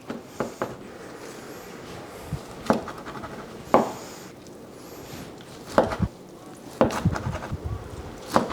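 A knife cutting between the bones of smoked ribs, giving a few scattered, sharp crunching and scraping strokes separated by pauses, close and fairly loud with no talk.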